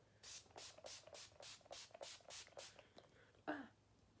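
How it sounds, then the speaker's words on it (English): Urban Decay All Nighter setting spray misted onto a face in about ten quick, evenly spaced spritzes, close and soft, with no talking. "Just spray that all over my face."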